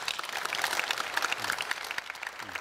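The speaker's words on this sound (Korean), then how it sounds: "박수 한번 주세요" A crowd applauds at a multinational youth sports gathering in Chungbuk, South Korea, dense continuous clapping filling the space with irregular peaks and no speech over it.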